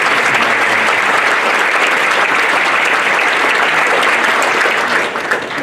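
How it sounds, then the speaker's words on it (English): Loud, sustained applause from a large audience at a school sports awards ceremony, a thick wash of clapping that holds steady and only eases slightly at the end. "Would you give a round of applause?"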